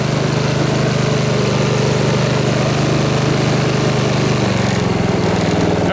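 Honda HRX2174HZA lawn mower engine runs steadily at close range, a loud continuous drone with constant pitch and no pauses throughout.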